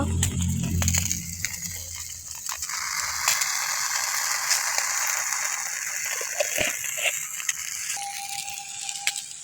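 Okra stirred around in a hot pan for a vegetarian bhindi dish, giving a steady sizzling, rattling scrape that runs continuously and close up, with no talking.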